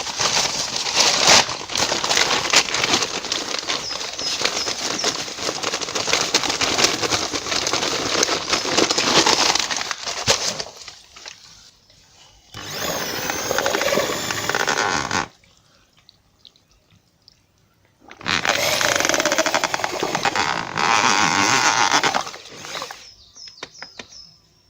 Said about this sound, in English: I've got a little paddle mixer here on a normal drill